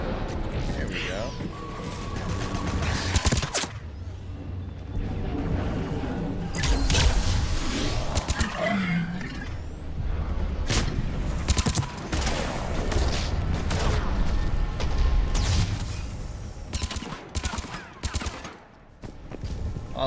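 Rockets and heavy weapons fire and explode nonstop through a Mass Effect 3 firefight, loud dense bursts and crashes layered with gunfire, sharp impacts punctuating the din.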